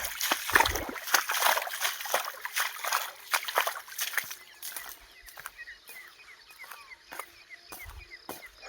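Water splashes and sloshes as something moves through water-filled potholes on a village road, with scattered splatters loudest early and fading to softer trickles and faint birdsong.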